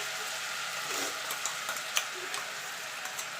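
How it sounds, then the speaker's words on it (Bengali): Ginger, garlic, onion and green chilli paste frying in hot oil for egg chops, a soft continuous sizzle with light ticking spatters and stirring, quiet and close, with no talking. "এবার আমি মশলাটা দিয়ে দেবো।"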